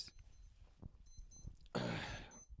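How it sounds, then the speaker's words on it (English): An alarm going off faintly in the background as a few short electronic beeps, followed by a louder burst of rustling noise. "so my alarm went off there."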